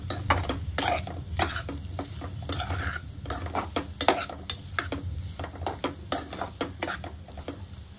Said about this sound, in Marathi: यात आता मसाला घालूया. आता सगळे हे एकजीव करूया.